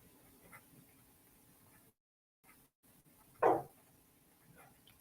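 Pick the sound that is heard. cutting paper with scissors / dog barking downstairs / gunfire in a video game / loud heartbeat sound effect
dog barking downstairs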